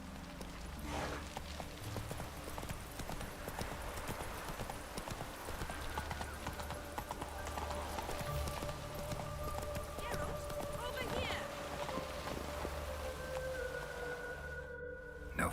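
In The Witcher 3 video game, a horse gallops steadily with rapid, even hoofbeats in a continuous run, joined by background music and occasional voices speaking over it.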